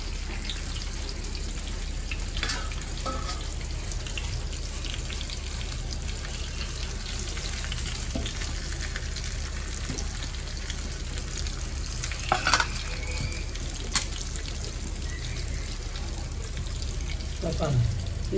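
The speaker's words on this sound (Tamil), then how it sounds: "இப்போ இந்த மீன் வெந்து 2 பக்கமும் திருப்பி போட்டேன்." Fish frying in a pan for a spicy fish curry meal, a steady close sizzle of hot oil running throughout with a few faint clinks and stirring sounds, no talking.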